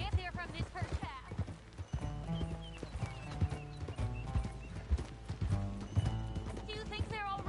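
Horse hooves clip-clop steadily as riders move along a path, a dense uneven rhythm of close hoofbeats with occasional whinnies and people talking over it.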